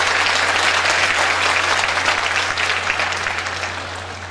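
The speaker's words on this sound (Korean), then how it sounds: "네, 큰 박수 부탁드립니다" Steady audience applause at the opening ceremony of a poetry and nature exhibition, dense and continuous, fading slightly toward the end.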